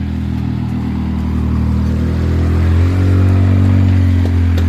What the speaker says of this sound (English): I can hear a motor vehicle.